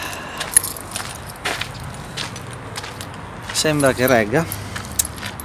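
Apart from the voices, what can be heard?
keychain jangling while being adjusted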